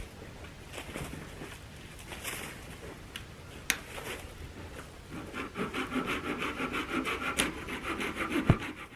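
Wood shavings are carved outdoors with repeated close scraping and rasping strokes that grow busier and more rhythmic toward the end, with a few sharp clicks and no talking.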